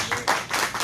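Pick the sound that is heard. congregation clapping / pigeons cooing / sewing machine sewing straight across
congregation clapping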